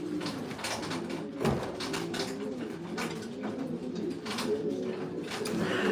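Racing pigeons cooing softly as they come into the loft, low repeated coos amid rustling and faint knocks, moderately distant and quiet.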